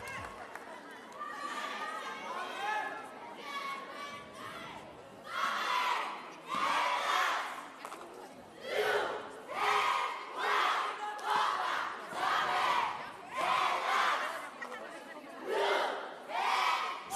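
A crowd at a youth all-girl cheerleading competition in Greece shouts and cheers in repeated surging bursts during a routine, loud and lively with rhythmic swells of voices.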